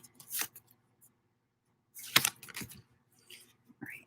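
A tarot deck is shuffled in a few short papery riffling bursts, close and soft, separated by quiet pauses.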